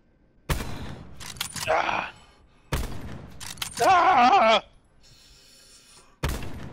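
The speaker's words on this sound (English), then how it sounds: "Those guys are shooting each other down there." Gunfire in a Call of Duty Black Ops 4 match comes in loud, sharp bursts separated by quiet gaps, with a short voice exclamation between the shots.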